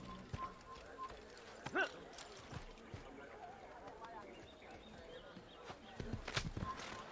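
Clip-clopping horse hooves sound intermittently over Assassin's Creed game ambience, with scattered footfalls and a few louder thumps near the start and end.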